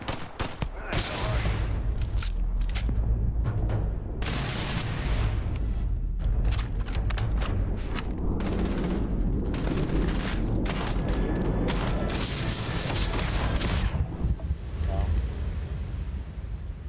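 Bursts of gunfire in Starfield, played on max difficulty, crackle in rapid repeated volleys with heavy booming impacts over a steady low hum, while a voice speaks intermittently.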